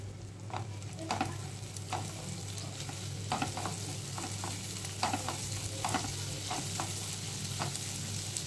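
Garlic sizzling in hot oil in a pan while being stirred, with a steady frying hiss under repeated soft scraping taps of the spoon, close up and continuous.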